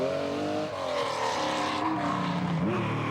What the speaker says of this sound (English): starting out with some footage, some old footage of a 911 Carrera